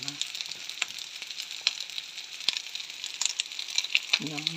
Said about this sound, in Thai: เติมเนยได้เลยนะคะเนยเข้าผัดข้าวแล้วเข้ากันดีมากๆเลย